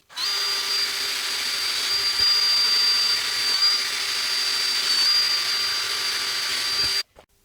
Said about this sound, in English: So I'm going to drill my pilot holes now.